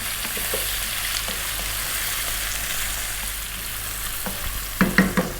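Green beans with sliced garlic, black pepper and salt fry in oil over high heat, giving a steady, close sizzle, with a few louder stirring clatters near the end and no speech.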